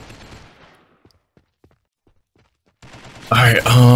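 Gunfire in the Galaxy at War mod of a battle simulator game: a fading burst of shots, a few faint scattered pops, then loud dense volleys that swell at the end, with a voice breaking in.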